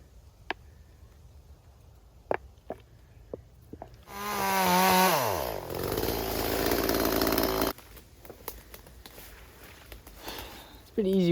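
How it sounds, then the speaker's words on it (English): A chainsaw felling trees on a homestead roars up loudly for a few seconds, its pitch bending as it revs and cuts, then drops away, with faint clicks and knocks around it. "It's pretty easy with the chainsaw."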